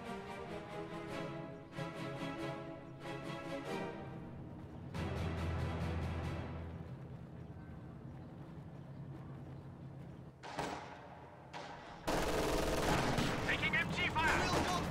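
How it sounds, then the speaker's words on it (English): Bursts of machine gun fire in the World War II strategy game Company of Heroes, several rapid rattling volleys separated by pauses, ending in a dense, loud barrage. "Taking MG fire!"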